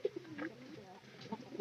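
Pigeons coo softly from a coop, low rounded murmurs rising and falling over a second or two, faint and close with a muffled background.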